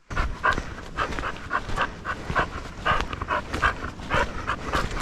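A dog pants rapidly and steadily near the microphone outdoors, with breathy rhythmic puffs and occasional soft whimpers, with no talking.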